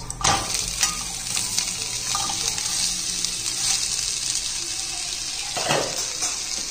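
Millet methi thalipeeth frying in oil in a pan over a medium flame, a steady close sizzle running throughout with a few louder spits and crackles.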